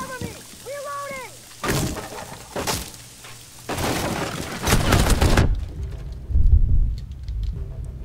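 In a Rainbow Six Siege match, bursts of rapid gunfire shoot out a window, several loud volleys with crackling impacts close by, trailing into quieter rumble as players talk.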